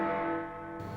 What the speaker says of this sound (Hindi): किसी घंटी की आवाज बाहरी श्रवण नलिका से दाखिल होती है और कान के पर्दे पर आघात करती है